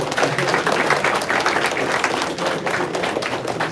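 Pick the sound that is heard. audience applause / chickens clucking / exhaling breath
audience applause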